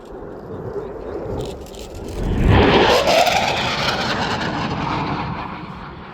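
A Typhoon or Rafale fast jet makes a high-speed pass near 0.9 Mach at an RAF Cosford airshow. It rises to a loud roaring peak with a sweeping pitch shift, then trails off into a sustained rumble.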